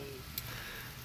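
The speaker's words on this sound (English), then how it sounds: "I know you can't smell the food, but you can hear the sizzle." Chicken frying with a steady, close sizzle, a continuous hiss over low kitchen rumble with one brief tick near the start.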